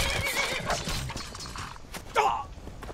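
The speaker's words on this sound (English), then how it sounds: "Motherfucker, trying to kill my horse!" A horse in the Skyrim video game lets out a loud whinny amid clip-clopping hooves and scuffling game sounds, with a second sharp neigh near the end; no speech over it.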